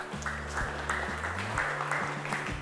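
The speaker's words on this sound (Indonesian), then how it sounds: "Pertanyaan yang bagus, tepuk tangan dulu buat Andrew." A brief round of clapping from a group of students in an Indonesian university teacher-training classroom, with tonal voices or sounds mixed in under the applause.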